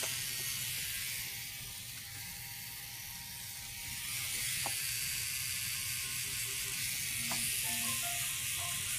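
A tattoo machine set to 9 buzzes steadily and faintly through a constant hiss, with small clicks and brief tonal blips partway through.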